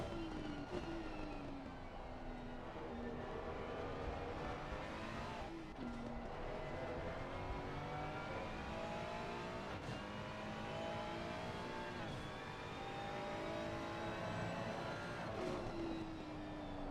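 Onboard engine of a race car in the video game Assetto Corsa Competizione at the Nürburgring, revving steadily with repeated pitch climbs and drops through gear changes, loud and continuous with no talking.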